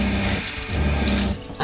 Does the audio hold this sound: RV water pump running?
yes